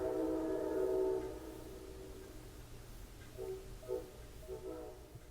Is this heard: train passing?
yes